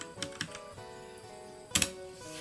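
Quiet keystrokes on a computer keyboard typed into a terminal: a few scattered clicks, then a quick double tap, faint over a steady background hum.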